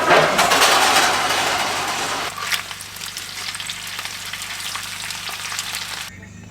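Bacon sizzles and spits in a pan on a cold ice-fishing outing, loud and dense at first, then settling into a steady softer crackle with scattered pops, no talking.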